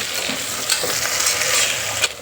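Onion and tomato are sautéed in a pan for chicken pulao with a loud, close sizzle and brief scraping stirs from a spoon, and no one speaks.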